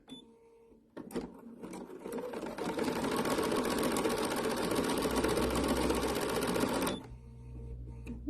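A sewing machine sews a decorative stitch in one steady, close run of rapid needle clatter lasting several seconds, starting and stopping abruptly.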